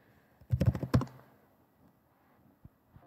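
Quick, close clicking of typing on a computer keyboard, a brief burst of several rapid keystrokes followed by a few scattered single taps in a quiet room.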